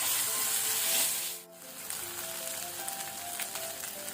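Ginger garlic paste fries with onions in a hot pan, a steady crackling sizzle with a brief dip midway before the frying resumes, close and continuous with no voices.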